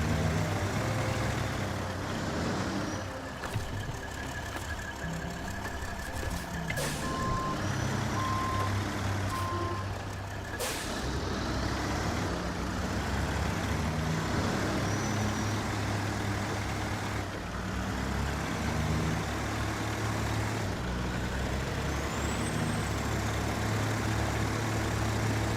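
A video-game truck engine drones loud and continuous under the whole stretch, with reversing beeps and scattered tones and chirps layered on top.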